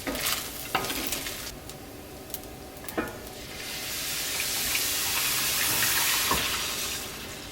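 Flour being stirred into browned food in a hot pan, with a steady sizzle and frying hiss and the scrape of a utensil moving through the mixture, loud and close with no talking.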